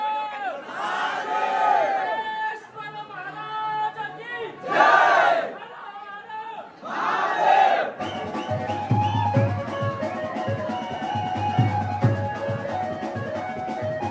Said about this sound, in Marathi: नवघरच्या पालखीचा जल्लोष बघा।